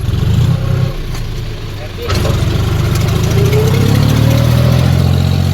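A Swaraj tractor engine runs while levelling a field, a loud close diesel chug that dips briefly and then revs back up into a steady, rising drone, with people talking over it.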